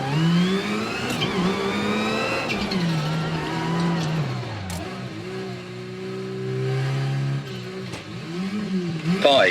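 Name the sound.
rally car engine revving, Assetto Corsa Rally video game lap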